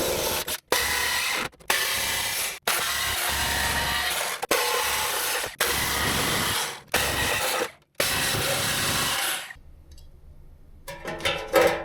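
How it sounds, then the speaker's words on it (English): A jigsaw cuts openings for a power entry module in a sign-painting pounce machine build, a loud, close buzzing rasp running in several bursts with brief stops between, then going quiet with faint handling noises at the end. "That way we can get our jigsaw blade in there."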